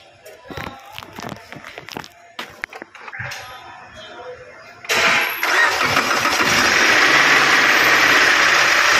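A Subaru Forester with a newly replaced engine cranks and catches midway, then settles into a steady, loud idle close by, following scattered handling noises and shuffling.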